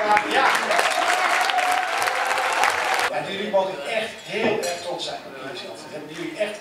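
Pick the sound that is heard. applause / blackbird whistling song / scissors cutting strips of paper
applause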